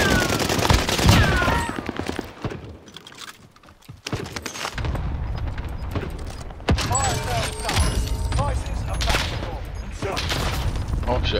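Video game firefight with bursts of gunfire and scattered shots, some close and sharp, mixed with a busy background of game effects. Players talk over much of it.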